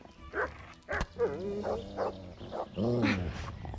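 A dog in the medieval game Kingdom Come: Deliverance barks and growls in several quick, close bursts, some rough and snarling, with no talking.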